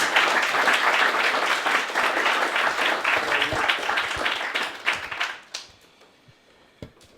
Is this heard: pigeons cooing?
no